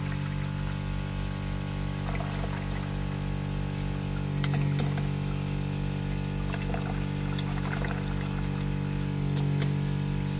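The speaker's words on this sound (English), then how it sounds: "we'll watch as we start to spit out fresh water into the bucket" A Spectra Ventura 200T watermaker runs with a constant pump hum and drone while fresh water trickles and splashes into a bucket, a few brief louder splashes standing out.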